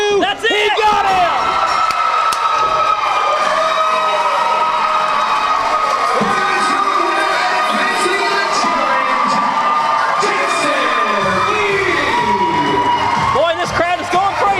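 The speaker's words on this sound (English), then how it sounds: "Boy, this crowd is going crazy" A wrestling crowd at a live show erupts after a roll-up pin, loud sustained cheering with shrill children's shouts and whoops, a commentator talking over the roar throughout.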